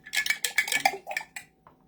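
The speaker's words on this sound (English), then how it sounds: "I gotta keep stirring it" A spoon knocks and scrapes inside a pot of beef stew made with beef bones, a quick cluster of close metallic clinks that trails off into quiet.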